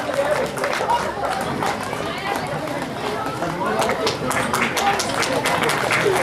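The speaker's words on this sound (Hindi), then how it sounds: "तालियां बजती रहनी चाहिए।" Audience clapping and chatter at a Ram Leela Vijay Dashami event, steady dense applause mixed with crowd murmur throughout, moderately loud and continuous.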